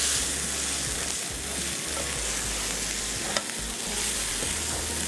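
Tomatoes stir-fried in a pot for a Mughlai dish give a loud, steady sizzle close up, with a low hum underneath and a single sharp clink partway through.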